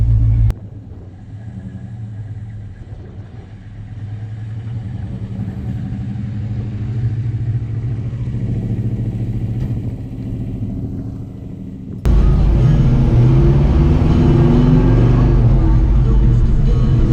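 Inside a vehicle towing an enclosed trailer on a 370-mile drive, a low engine rumble and road noise hum steadily, growing sharply louder and rougher partway through as it picks up speed, with a voice speaking briefly.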